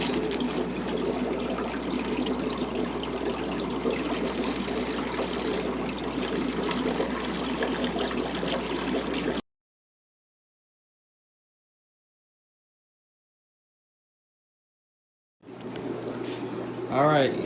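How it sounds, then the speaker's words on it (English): Water carrying guppies is poured from a net container into a bag beside an indoor 100-gallon pond, giving a steady splashing, trickling pour that is cut by a silence and then resumes briefly. "So I'm going to pour them in the bag and start the acclimation process."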